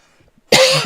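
One sharp, loud cough lands close to the microphone after a near-silent pause.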